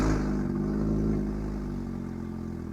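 A 200 hp Mk2 Golf GTI engine pulling away, a steady throaty mid-range drone with rich low harmonics, loud and close, easing slightly in level as the car moves off, no voices.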